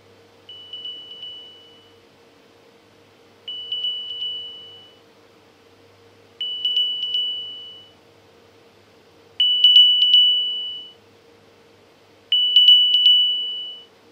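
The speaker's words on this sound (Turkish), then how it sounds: "Böyle giderek artan şiddette bir kulaklık üzerinde bir ses çalıyor." An OPPO Enco X2 earbud plays its find-me tone, five bursts of rapid high beeps spaced about three seconds apart, each burst louder than the last, with nothing else heard.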